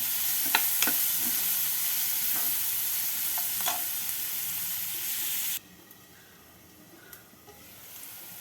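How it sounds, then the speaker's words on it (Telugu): Onions fry in a pan for a dried fish and cucumber curry: a steady, near sizzle with scattered stirring clicks drops suddenly to a much quieter hiss about two-thirds of the way through. "ఉల్లిపాయలు వేగిపోయినాయి"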